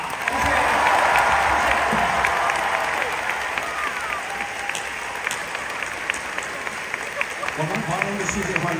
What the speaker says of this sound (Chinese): 我们用最热烈的掌声